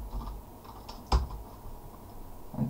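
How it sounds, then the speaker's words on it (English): Password being typed on a computer keyboard, a quiet run of light key taps with one louder keystroke midway and a few more at the end, with no talking. "the only way to open it up again is to double click lock it and type in your password"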